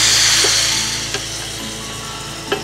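Tripe frying in olive oil with Spanish paprika, a steady close hiss of sizzling with a few soft stirring clicks, no talking.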